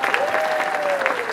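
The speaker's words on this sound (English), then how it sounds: "Give her a round of applause." An audience at a live impersonator show in Orlando breaks into a short burst of dense applause, fairly close, while a voice carries over it.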